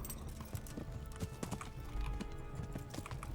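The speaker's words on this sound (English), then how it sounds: "get back on your horse, Henry." Horse hooves clip-clop in the medieval video game Kingdom Come: Deliverance, a steady run of close, rhythmic hoofbeats over a dense game soundscape.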